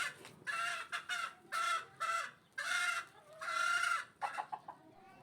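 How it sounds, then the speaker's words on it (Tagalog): Loud, agitated clucking from a hen about to lay an egg, a series of repeated squawking bursts close by with short pauses between them. "Ang ingay ng isang inahin dahil mangingitlog na."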